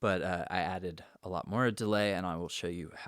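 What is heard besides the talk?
No everyday noise stands out behind the speech.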